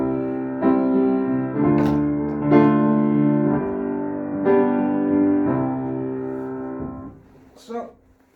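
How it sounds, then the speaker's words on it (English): A chord progression played on a sustained, harmonically rich instrument: a handful of chords changing roughly every second, each held evenly at moderate loudness, then fading out near the end with a brief faint noise. "If I were to play this chord progression"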